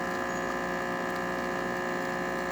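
A Rancilio espresso machine, checked for a failure to build pressure, pumps steadily while extracting coffee, giving a constant close electric buzzing drone with a strong tonal hum throughout.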